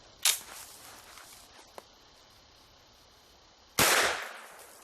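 Two sharp gunshots from a firearm fired at a hardened steel lock, the second louder and closer with a longer ringing decay, separated by a faint click and low background noise.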